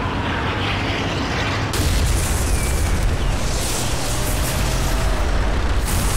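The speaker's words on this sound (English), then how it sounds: "Artillery fire imminent, sir." Continuous heavy rumbling of artillery explosions in Call of Duty: World at War, dense and loud, with overlapping booms and no clear gaps.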